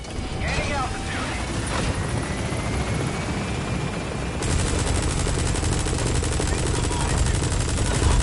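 A military helicopter in Metal Gear Solid gains altitude with a loud, steady rotor roar that thickens partway through, while sharp gunfire-like rattles sound over it.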